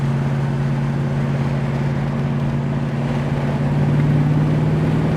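A 1969 Plymouth GTX convertible cruises steadily, its engine a low, even drone with a constant hum that swells slightly near the end, heard from inside the car with no talk.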